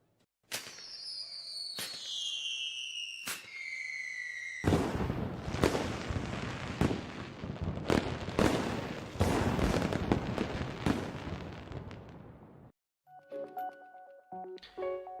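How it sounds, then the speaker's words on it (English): Fireworks in the video game Honkai Impact 3rd: several whistling rockets climb, then a dense run of loud bursts and crackling pops follows before fading into a quieter musical tail. "Beautiful fireworks."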